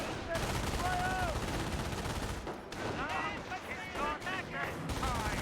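Gunfire in the Company of Heroes 1 war game: rapid machine gun bursts and rifle shots crackle over battle noise, with brief pauses and whistling sounds between volleys.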